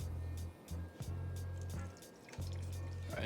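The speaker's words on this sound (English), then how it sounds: "I'm just gonna mix it with distilled water in this gallon jug and start filling it up." Antifreeze coolant mixed with distilled water is poured into a gallon jug, giving a steady low liquid gurgle that breaks off briefly a few times between pours, with faint drips and no talking.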